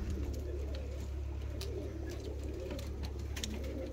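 Low, soft cooing from fancy pigeons rolls along faintly beneath a constant droning hum, with no one speaking.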